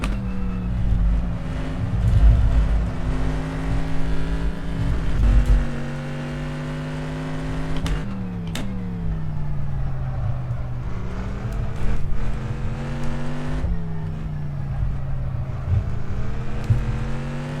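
A DPi race car in the rFactor 2 racing game drones loudly and continuously, its engine rising and falling through gear changes and revs, with no talking.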